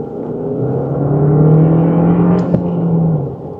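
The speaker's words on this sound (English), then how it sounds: "You just get more of that essence of that petrol engine." A Kia Sportage petrol engine accelerating, a steady, fairly loud rising drone heard from inside the car with a brief click partway through and no talking.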